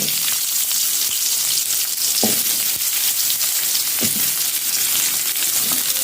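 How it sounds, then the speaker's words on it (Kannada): Chopped onions sizzle and fry in hot coconut oil for a village-style fish curry, a steady loud crackle throughout with a few soft stirring scrapes and no talking. "ಎಣ್ಣೆ ಹಾಕಿದ ಮೇಲೆ ನೀರುಳ್ಳಿ ಹಾಕಿಕೊಳ್ಳಿ"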